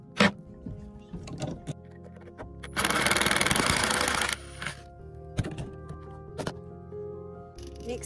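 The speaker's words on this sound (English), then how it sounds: "we have to remove some stubborn screws which are holding the floor planks in position" Stubborn screws are removed from the floor planks of a camper, with a loud buzzing power-driver burst of about a second and a half. Scattered knocks and clatter come before and after it against a quiet background.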